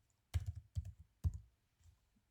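Computer keyboard typed in three short quick bursts of clicking keystrokes, close and fairly clear, separated by brief pauses, with a faint soft tap near the end and no speech.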